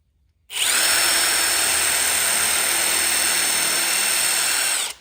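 Power drill boring a pilot hole into the wood of a DIY couch armrest table, set at a 45-degree angle: one steady, loud high-pitched whine that starts abruptly and holds for several seconds before cutting off.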